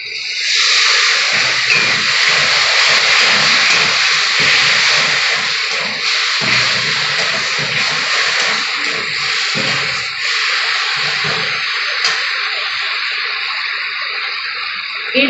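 Water poured into a hot pan of Kashmiri chilli spices for a katla fish curry, setting off a loud, continuous hissing sizzle that steams for several seconds before easing slightly.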